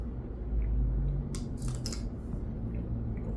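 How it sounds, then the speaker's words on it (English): Scissors or cutters snip through craft wire for theme tree decor, giving a couple of short, sharp close-up clicks over a low steady background hum, with no talking. "Then you will cut your wire."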